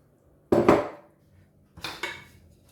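Meat, tomato, onion, coriander, parsley, ginger, spices, turmeric, salt and oil being stirred together in a cooking pot for Moroccan couscous, giving two short bursts of clattering, scraping metal, one loud and one slightly softer, with a quiet pause between.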